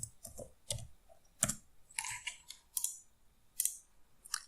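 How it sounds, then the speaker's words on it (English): Typing on a computer keyboard: a series of close, crisp key clicks in irregular short bursts with brief pauses, moderately quiet, with no talking. "I'm going to type in here 1280 by 720"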